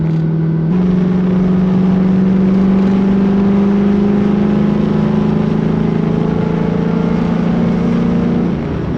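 Steady low engine drone fills the cabin of a GTO cruising at highway speed, a constant loud hum with a slight pitch rise and no talking.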